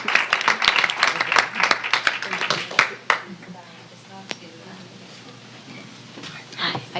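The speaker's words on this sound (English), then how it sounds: "So let's give Nicole a round of applause." A modest audience at a UN Day event gives a brief round of scattered clapping that thins out after a few seconds, leaving quiet room murmur with a few stray claps.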